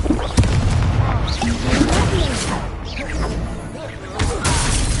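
Bursts, whooshes and booming blasts from spells cast in the game Hogwarts Legacy, a rapid string of impacts layered over each other, with a voice calling out spell names between them.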